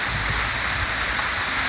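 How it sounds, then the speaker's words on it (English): Steady, heavy rain pours down on an open beach-house building site in Barbados, a dense, unbroken hiss that stays loud and close throughout with no voices. "So much for the rain not coming in."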